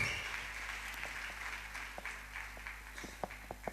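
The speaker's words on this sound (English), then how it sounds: "Can we clap for him?" Faint applause from an audience at a church conference gathering, a soft scattered patter with a few sharper claps standing out near the end, heard distantly without speech.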